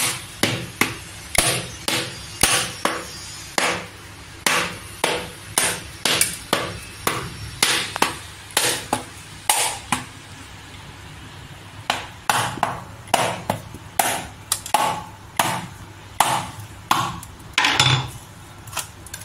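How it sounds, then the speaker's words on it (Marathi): A whole coconut is cracked open for chutney with repeated sharp hammer-like blows, about two strikes per second at first, then irregular knocks over roughly twenty seconds, close and loud with no talking. "इथे आता नारळ तोडायचा चटणीसाठी।"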